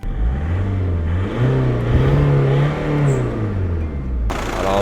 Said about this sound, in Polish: daj mu tam po obrotach. To ma chodzić.